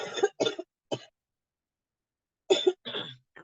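A series of coughs: two quick bursts, a short third, then a pause before two more harsh coughs, close and clear with no talking.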